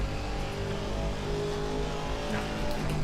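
Race car engine in the video game Assetto Corsa Competizione, a loud, steady droning roar with a strong low harmonic buzz, holding a high sustained pitch close up with no talking.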